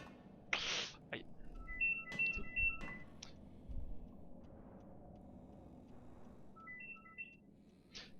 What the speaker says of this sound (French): mon téléphone vient de sonner en même temps